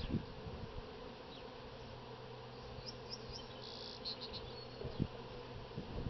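A steady, dense buzzing of many bees around hive frames during the splitting of a hive hums continuously, with occasional faint higher chirps and soft clicks in the background.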